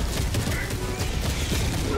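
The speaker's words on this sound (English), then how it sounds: "I'm summoning a turret and a barrage." Turret and barrage fire in Helldivers 2 rolls on as a dense, continuous fusillade of rapid shots and distant booms under a steady game din, with a player's voice talking intermittently.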